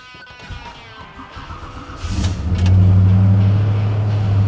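A restored 1957 Chevy Bel Air pro touring car engine cranks and fires up, rising from quiet clatter into a loud, steady running rumble up close.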